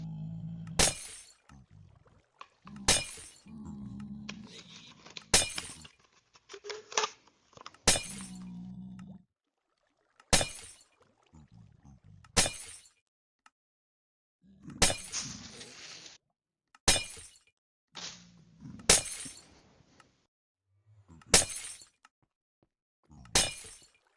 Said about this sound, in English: the glass breaking kind of it cracks me up for some reason